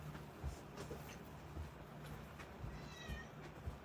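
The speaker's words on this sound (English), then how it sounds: "I got to go take care of this cat." Faint meows from a cat come through a quiet room, several short calls scattered over a few seconds against a low background hum.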